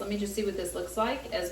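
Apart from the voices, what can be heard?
No everyday noises stand out.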